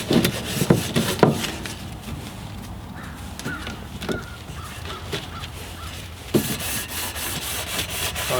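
Rough scraping strokes of hand sanding a roof rack wind deflector before painting, uneven and close, with crows cawing in the background and a faster, denser stretch of rubbing near the end.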